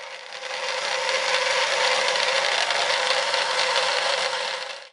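A small 62.5-inch bandsaw cuts the outline of a steel knife blade for a liner lock, a steady bright rasping whine held close and loud from start to finish with no talk.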